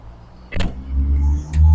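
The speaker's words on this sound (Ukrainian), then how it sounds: "Багажник відкривається жестом з махом ноги." A Volvo's power tailgate, triggered by a foot-swipe gesture, whirs open with a low motorized hum, followed by a brief click and a short mechanical thud near the end.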